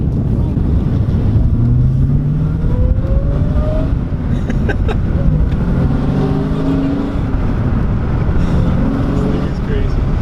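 Dodge Challenger Hellcat with a six-speed manual, driving along with its supercharger whine rising and falling over a loud, wind-buffeted engine drone while people talk throughout.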